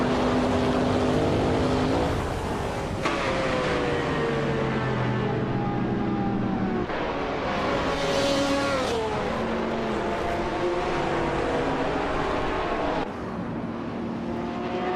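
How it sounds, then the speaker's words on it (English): GTS class race cars in a racing video game roar through a long stretch with no pauses, engine pitch rising and falling as gears shift and cars close in and pass. "The GTS class cars are closely matched in speed, with the top drivers separated by seconds."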